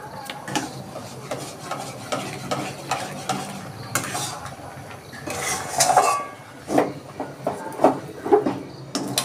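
A spoon stirs semolina with milk in a bowl, giving uneven scraping and clinking strokes against the bowl, close and fairly loud, with a few sharper metallic taps.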